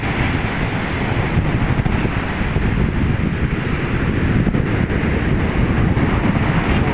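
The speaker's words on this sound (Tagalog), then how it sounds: "Ayan ang malaking alon." Big ocean waves crash and surge continuously under strong wind, with heavy wind buffeting on the microphone and a loud, dense roar throughout and no talking.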